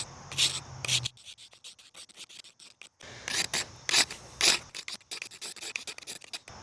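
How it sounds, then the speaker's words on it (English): The edge of an Ozark Trail D2 steel knife is scraped perpendicularly in repeated rough, rasping strokes, close and fairly loud, in an uneven rhythm of quick scrapes with a short pause partway through. "I'm gonna do like 30 scrapes with each one,"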